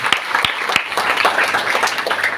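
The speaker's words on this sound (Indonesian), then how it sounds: "Berkat tepuk tangan buat Tuhan kita Yesus Kristus" A congregation claps at a Christmas and New Year thanksgiving service held at a school in Kupang, with a few sharp, loud individual claps up front over a steady, moderate bed of clapping.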